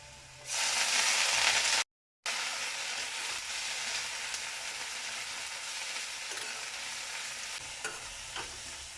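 Coriander leaves sizzle and fry with ginger and garlic in hot coconut oil, a steady loud hiss with stirring scrapes, broken by a brief gap of silence, then continuing evenly.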